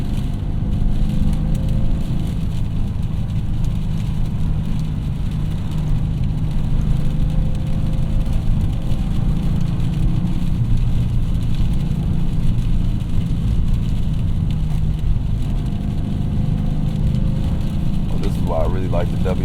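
A 2024 Subaru WRX TR drives in second gear on wet Michigan roads, its steady mid-pitched engine drone and tire hiss continuous and close throughout, with talking over the top.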